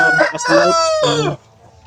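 A loud, close Hubbard rooster crow with a rising and falling harmonic call, ending abruptly into near silence.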